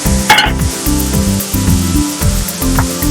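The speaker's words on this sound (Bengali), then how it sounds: "এর মধ্যে আমি অ্যাড করব হাফ চামচ আদা বাটা" Ginger paste dropped into a hot pan sets off a sharp burst of sizzling spatter, then a loud, close, steady frying hiss that runs throughout with no talking.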